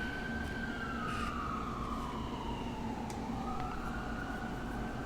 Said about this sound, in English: I live in front of a hospital, so you're going to hear all the ambulance all the time.